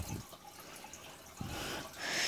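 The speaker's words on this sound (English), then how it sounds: "I gotta put more water in this thing too." Water is poured into a goldfish tank, with soft trickles and drips that swell into a louder splashing pour toward the end.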